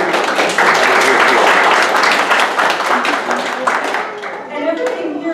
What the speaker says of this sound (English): let's have another round of applause for everyone